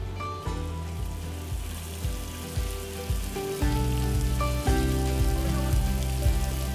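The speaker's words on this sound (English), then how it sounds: "We're gonna let these guys sauté a bit before we move on to the next" Onions sautéing in a pan for a dove pot pie, a steady crackling sizzle that grows louder partway through, joined by a low repeating rumbling pulse underneath.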